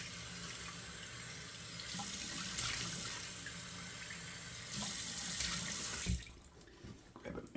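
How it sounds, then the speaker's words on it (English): Cold water runs steadily from a bathroom sink tap, a close, continuous hiss and splash that swells a little as the flow changes and then cuts off near the end. "I'm gonna turn on cold water here."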